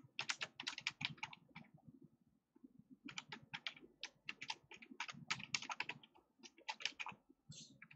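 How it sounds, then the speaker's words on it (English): Fingers type on a computer keyboard during a chess lecture, quick irregular bursts of crisp keystrokes with a short pause in the middle, fairly quiet and with no talking. "Let me type it."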